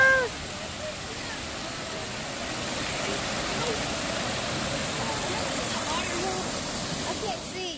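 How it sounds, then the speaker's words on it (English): Water rushes and splashes in a continuous loud wash at the otter exhibit of the Oregon Coast Aquarium, with faint voices in the background. "Oh, here comes the water."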